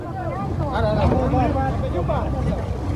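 A boat motors across the open sea, a constant low engine hum mixed with wind buffeting the microphone, while people talk nearby over the noise.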